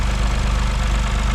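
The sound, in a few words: Toyota Corolla GR three-cylinder engine running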